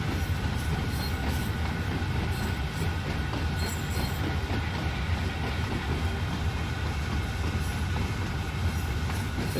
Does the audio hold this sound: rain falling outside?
no